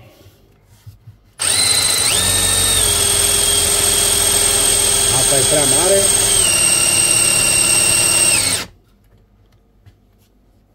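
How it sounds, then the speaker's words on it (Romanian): An electric drill from the Hikoki versus Ruko comparison whines steadily at high speed for about seven seconds, loud and close, starting and stopping abruptly, with someone briefly speaking over it. "Fiți atenți că am lăsat bormașina"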